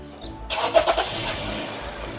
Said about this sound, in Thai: เครื่องยนต์ก็สตาร์ทครั้งเดียวติดเลย